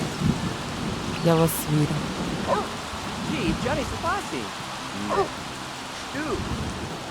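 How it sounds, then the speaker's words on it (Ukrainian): Rain in The Sims 3 video game falls as a steady, moderate hiss beneath a person talking and bursts of chirpy, warbling game character voices. "В грі дощ херачить."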